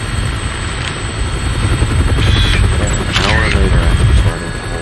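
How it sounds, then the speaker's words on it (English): A helicopter in the video game Dead Rising thrums loudly and steadily with a close rotor drone, while voices and other game effects sound over it. "Looks like taking a helicopter was the way to go."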